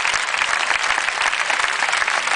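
Studio audience clapping steadily and loudly throughout a short burst of applause, dense and even with no voices.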